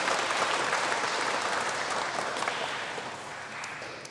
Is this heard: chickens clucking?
no